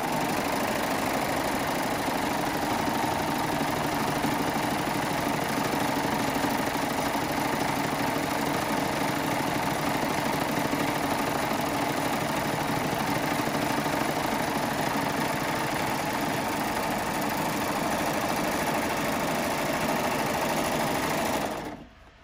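A Baby Lock serger fitted with a 90 EL needle stitches jelly roll quilt strips, giving a steady, loud, continuous mechanical whir with rapid needle chatter that runs unbroken for about twenty seconds before stopping abruptly.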